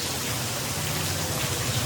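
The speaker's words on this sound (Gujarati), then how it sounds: "આ કેટલો વરસાદ આવે છે ને ઘડીએ ઘડીએ" Steady rain pours down in Chalala, Gujarat, as a continuous dense hiss of drops. It is moderately loud and even throughout, with no voices.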